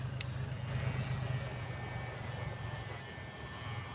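A low, steady rumble of passing road traffic beside a roadside spot fills the background, with engine drone rising and fading, fairly close but muted.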